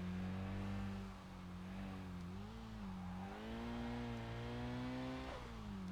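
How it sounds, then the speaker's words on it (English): SIL 80 car engine in the video game Kaido Racer, a steady, droning exhaust note with rising and falling revs as the throttle shifts, continuous and fairly close, with no voices over it. "maybe the SIL 80 sounds different in this game"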